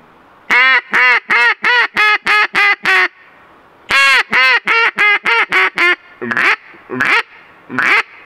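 A loud single-reed mallard duck call, a Zink PH-1 open-water call, blown in rapid bursts of quacks, two long runs of about eight quacks each, followed by a few drawn-out single quacks.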